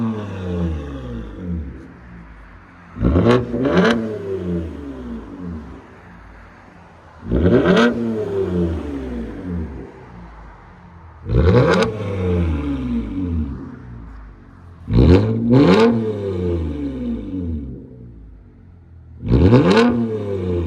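Toyota Camry TRD with a 3.5L V6 and straight-pipe exhaust revs hard in five separate bursts, each rising sharply and falling back to a steady idle, loud and close with no talking.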